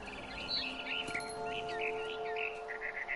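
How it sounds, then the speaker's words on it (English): A barn swallow chirps in quick, bright bursts just outside a window, its calls repeating over a steady low background hum. "Then I heard chirping outside my window. It was a barn swallow going back to her nest."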